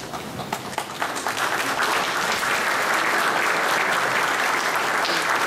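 An audience at the opening ceremony of a European Qur'an recitation competition breaks into applause, scattered claps quickly swelling into sustained, dense clapping from a large hall crowd.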